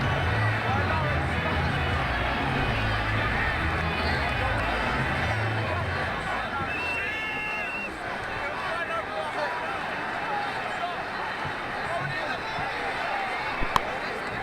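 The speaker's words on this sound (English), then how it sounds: "The crowd really enjoyed that one." Steady broad crowd noise from a stadium audience in the cricket video game Ashes Cricket 2009, a continuous roar running throughout at fairly even loudness with a brief sharp knock near the end.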